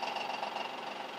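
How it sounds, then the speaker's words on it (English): A rattling, droning 1955 Craftsman exhaust fan runs steadily in the background, a continuous mechanical hum with a slight knocking texture. "that horrible noise you hear in the back, my 1955 Craftsman exhaust fan"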